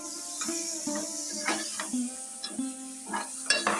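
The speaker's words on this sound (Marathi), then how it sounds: "सर्व मटण तेलामध्ये टाकून घेऊया चांगला फ्राय करून घ्यायचा आहे" Mutton pieces frying in hot oil, a steady sizzle with repeated scraping and stirring strokes of a utensil against the pan, close and fairly quiet, with a faint background tone.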